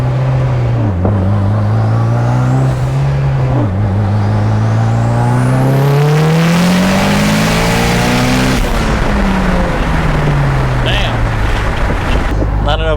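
A tuned 2.3-liter turbocharged car with twin-scroll turbo kit and cams drives in rush-hour traffic, its engine drone rising and falling in pitch as it accelerates and shifts, loud and continuous under occasional talking.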